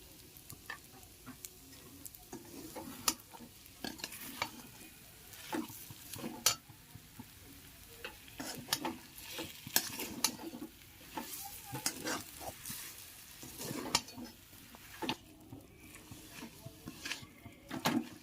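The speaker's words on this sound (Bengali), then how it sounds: "ঘিটা দেওয়ার পর ভালোভাবে ঘিটাকে মিশিয়ে নিয়েছি।" Ghee stirred into taro greens cooking in a pot, a faint, soft sizzle under repeated spoon scrapes and light knocks against the pan, coming at an uneven but steady rhythm throughout.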